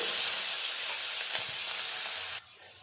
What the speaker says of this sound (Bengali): ওই তেলে ফোড়ন দিয়ে দেব দুটো শুকনো লঙ্কা একটু কালো জিরে একটু পেঁয়াজ কুচি